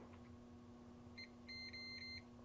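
A multimeter on continuity test gives a faint high electronic beep, first a short blip and then a longer steady tone broken by a few quick dropouts, over a constant low electrical hum.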